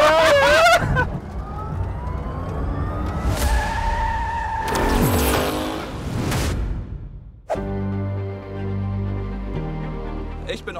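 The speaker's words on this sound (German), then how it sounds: "Ich darf auf einer Teststrecke das schnellste und stärkste Auto der Welt" A Rimac Nevera electric hypercar runs on a test track with rising and falling whines and tyre noise in loud sweeping passes, then a steady tonal drone toward the end.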